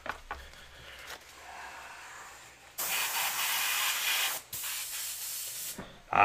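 An airbrush sprays thinned paint with reducer added. A soft, airy hiss turns on and off in short bursts, then a louder, steady spray runs for several seconds before a brief cutoff and a final burst.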